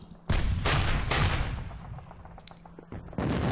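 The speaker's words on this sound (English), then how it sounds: "Okay, we got our divisional artillery here. Well, I think we should just pound these positions. These are heavy guns." Heavy divisional artillery fires a barrage in a World War II wargame: booming gunfire blasts with long rumbling decays, one big report near the start and another near the end.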